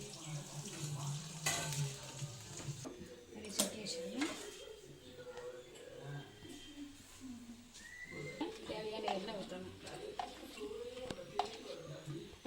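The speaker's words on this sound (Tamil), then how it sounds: "எண்ணெய் சூடான உடனே மிளகாய் போட்டு வதக்கணும்." Dried chillies sizzling in hot oil in a pan: a steady crackling fry with scraping stirs and occasional utensil clinks against the pan, while someone talks over the cooking.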